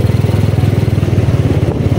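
Motorcycle engine running close by with a loud, steady, rapid pulsing thump, idling evenly.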